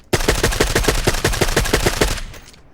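Scourge sniper rifle in the Badlanders game firing a rapid, even run of about fifteen sharp loud shots close up, then cutting off and fading out.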